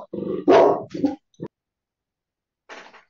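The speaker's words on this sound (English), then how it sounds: "it sounds like Ron's dog was disagreeing" A dog near a microphone gives a few loud, sharp barks and growly yips in quick succession, pauses for over a second, then lets out one softer bark.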